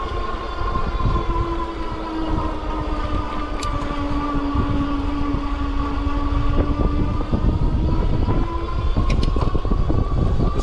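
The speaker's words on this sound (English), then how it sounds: "I can hear the motor more as well when I'm pedaling here." The electric motor of a Heybike Hauler cargo bike gives a steady whirring whine while being pedaled, set under continuous rolling road and wind rumble.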